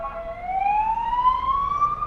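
An emergency vehicle siren sounds in a steady rising wail, moderately distant and clear over faint background noise, with no one talking.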